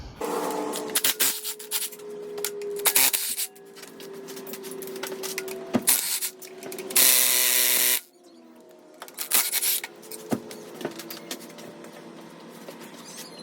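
Bolts being removed from a transmission bracket under an off-road 1997-2001 Honda CR-V: bursts of whirring power-tool ratcheting with metallic clanks and scraping, close, including a loud sustained buzz partway through.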